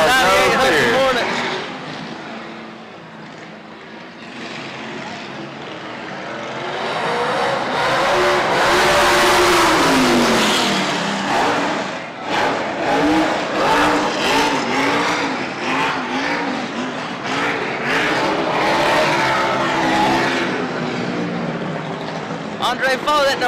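Race cars roar around a dirt track during a mock race at a county fair track's grand reopening, engines revving loud and near, swelling and fading as cars pass, with an announcer talking over the noise.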